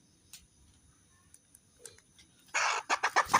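A pet chicken clucks in short bursts, faint at first, then a louder, nearer flurry of clucks near the end.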